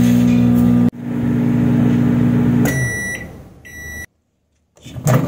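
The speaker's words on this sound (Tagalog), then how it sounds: "ipasok natin yan sa microwave para maluto" Microwave oven cooking instant noodles in hot water: a steady electric hum with a loud motor drone that cuts out, a few bright beeps, a moment of silence, then a door clunk.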